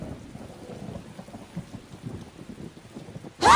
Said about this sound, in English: Man, this thunder's pretty intense, huh?